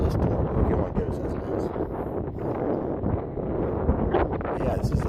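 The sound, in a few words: wind on cruise ship deck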